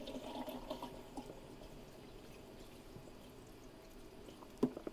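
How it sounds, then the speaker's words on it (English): Water running into a three-stage water filter system as it refills after the supply is turned back on, a faint, steady trickle and pour with a few soft knocks near the end. "you can probably start hearing the water going into the water filter"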